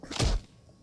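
Hard landing thud from a fall in Half-Life 2, a single short dull impact, close and alone.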